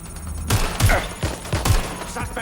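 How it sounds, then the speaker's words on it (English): Rapid bursts of gunfire in the Watch Dogs Legion video game, several heavy thumping shots in quick succession over about two seconds, loud and close with a brief quiet lead-in. "They're shooting at us."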